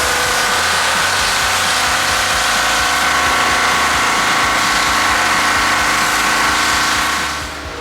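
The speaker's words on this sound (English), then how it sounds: "Stefan is currently outside pressure washing this stuff." A pressure washer runs outdoors cleaning greasy gears and parts from a Murray lawn tractor, a loud continuous motor drone with a hissing spray that holds steady before easing off at the end.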